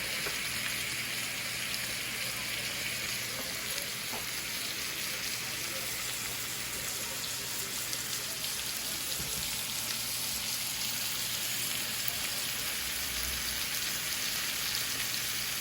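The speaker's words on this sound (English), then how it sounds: "we're going to turn that up because you really want it sizzling" Steady, continuous sizzling of a ribeye steak frying in a hot pan, a dense crackling hiss that holds evenly throughout with no talking.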